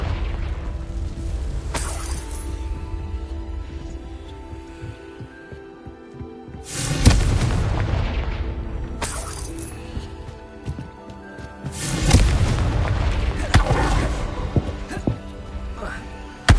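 Confringo blasting-spell explosions in the Hogwarts Legacy video game: loud booming bursts near 7, 9 and 12 seconds, each trailing into a rumbling decay over a steady game-music bed.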